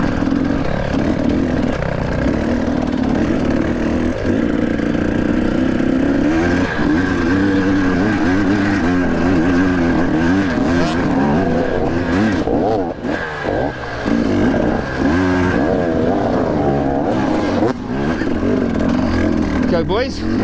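Enduro race motorcycles revving hard through rough terrain in South Africa, a loud continuous close engine drone that rises and falls with throttle blips, with voices faintly under the engine noise.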